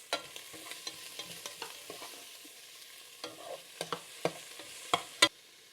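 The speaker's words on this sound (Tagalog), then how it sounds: "gisa tayo ng sibuyas" Onions sautéing in a pan for a Filipino lugaw, with scattered scraping stirs and soft crackles over a quiet background, a few sharper clinks of a utensil toward the end.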